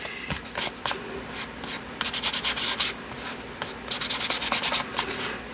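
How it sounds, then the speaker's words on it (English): A finger rubbing gesso over a drawn line on paper while making ephemera, close dry scratchy strokes in quick rhythmic bursts separated by short pauses. "I'm just taking my finger with some gesso and just kind of rubbing it on the line"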